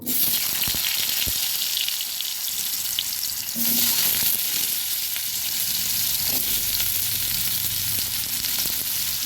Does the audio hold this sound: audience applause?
no